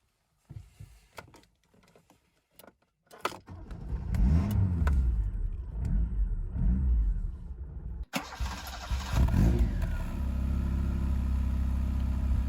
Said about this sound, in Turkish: Şöyle bir arabayı çalıştırıp ses alacağım.